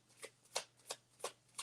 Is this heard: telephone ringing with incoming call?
no